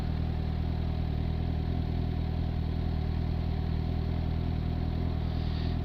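A vehicle engine idles and revs steadily in city traffic, a continuous low hum with a faint rise near the end, heard alone at moderate distance.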